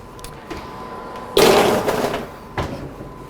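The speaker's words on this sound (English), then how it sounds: "and put it in the oven." An oven door shuts after a tray of jalapeno salt paste goes in, a close, fairly loud thump and rattle with a smaller clunk shortly after.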